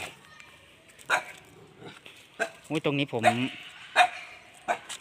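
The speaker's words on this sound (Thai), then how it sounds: "ตูบเห่านะครับเจ้าตูบเห่า" A dog barks several times in short sharp bursts outdoors near a large old takhian tree stump, with someone talking in between the barks.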